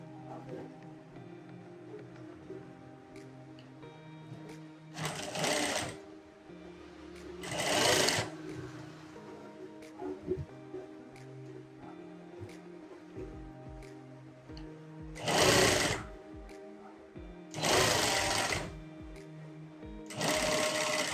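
A sewing machine stitching a blouse sleeve to the shoulder runs in several short bursts of steady whirring, separated by quiet pauses, close by with no talk.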